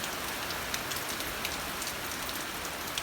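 Heavy rain pours down in a dense, continuous hiss of drops striking surfaces, loud and even throughout, with scattered sharper patters and nobody speaking.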